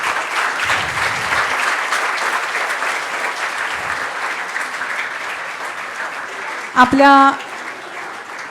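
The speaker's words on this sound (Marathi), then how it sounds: "सर्वांनी उठून सरांसाठी छान टाळ्या वाजवायच्यात." An audience at a guidance lecture claps steadily, a dense, continuous patter of applause that carries on for several seconds, with a short burst of speech near the end.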